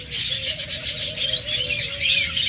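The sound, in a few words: pet birds chirping, olive budgerigar pair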